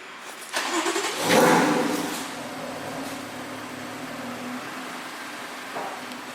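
A BMW F82 M4 starts up and pulls away on a test drive, its engine swelling briefly and then fading into a steady low rumble, with wind noise in the background.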